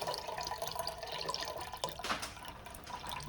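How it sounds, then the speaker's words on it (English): Chicken stock pours into a soup pot of reboiling water for bittermelon soup, a steady liquid splashing and trickling close by, with a brief louder gush near the end and no talking. "add some chicken stock."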